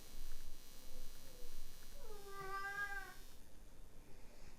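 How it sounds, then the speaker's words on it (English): A house cat lets out one drawn-out meow, rising and then falling, close to the microphone against a low background hum in an otherwise quiet room. "you guys hear my cat?"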